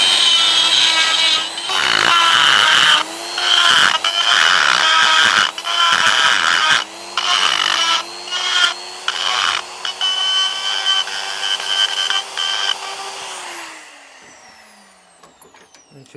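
A motorbike footpeg is ground out ahead of welding, the power tool whining loudly in repeated bursts broken by short pauses, then spinning down and fading near the end.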